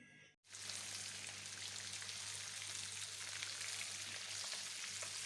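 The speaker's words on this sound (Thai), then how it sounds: "ทอดปลาหมอจ้าปลาหมอปลาหมอ" Climbing perch frying in hot oil, a steady dense sizzle that starts abruptly after a brief gap and continues evenly throughout, with no talking.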